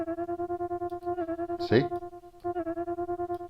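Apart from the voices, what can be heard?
FRMS synth sine wave notes with LFO phase set to key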